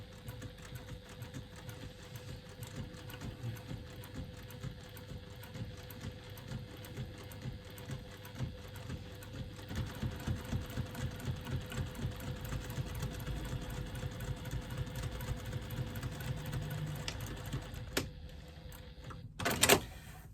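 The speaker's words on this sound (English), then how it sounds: "I'm going to then top stitch on the side panel 1/8 of an inch away from that fold that I've just made with my finger" A sewing machine top stitches a side panel of a Sven wristlet bag, running in a steady, close mechanical whir with a fast pulsing rhythm for most of the stretch, then stopping with a couple of sharp clunks near the end.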